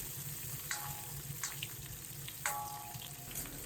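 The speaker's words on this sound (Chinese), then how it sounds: "先将五花肉炒出油" Pork belly slices frying in a little oil with Sichuan peppercorns in a wok, a steady low sizzle with a few sharper crackles and scrapes of stirring, fairly quiet and without talk.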